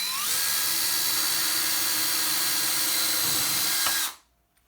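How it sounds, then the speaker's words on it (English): A power drill bores into steel strips, a steady high-pitched whine held for about four seconds before cutting off abruptly into silence. "I'll drill a couple holes in them because they're steel"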